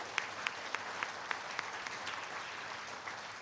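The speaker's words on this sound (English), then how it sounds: "My team deserves a big round of applause for their hard work." An audience at the MIHAS 2023 Knowledge Hub claps for the team, modest, even applause heard from a little distance, with a few louder individual claps standing out in a loose rhythm.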